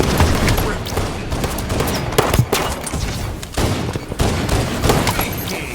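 Rapid pistol fire from the Halo CE pistol in the video game Halo 5: dense, loud bursts of gunfire and impacts in quick succession amid game effects, with a game announcer's voice over it.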